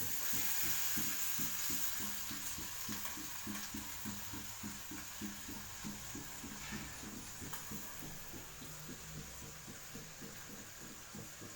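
Chopped tomato frying in a pan, stirred with a steady repeated scraping rhythm over a soft continuous sizzle, fairly quiet and close with no talking.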